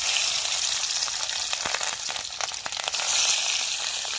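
Fish roe frying in hot mustard oil makes a loud, continuous sizzle, close up and steady throughout, with a few crackling pops and no talking.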